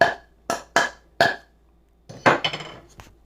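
A chisel is tapped along a marked line on wood, giving four sharp, separate knocks and then a quicker cluster of clicks and taps. The strikes are close and clear, with no talking.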